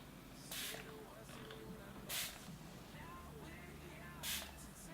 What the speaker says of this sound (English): I'm going to try this setting spray on one side